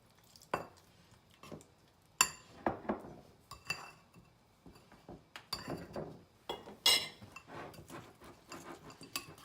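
Egg pakora batter being whisked with cold water in a bowl: quiet, irregular clinks and taps of a utensil against the bowl, mixed with soft scraping and stirring, heard close up with no talking.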